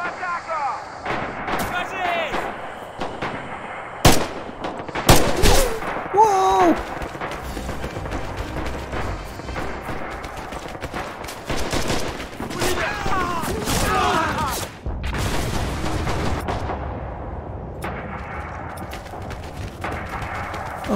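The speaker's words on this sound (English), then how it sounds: "Of course there's an MG somewhere." Gunfire fills a Red Orchestra 2 battlefield: rapid machine gun bursts mix with heavy booms and single shots, loud and near at times, with voices talking over parts of it.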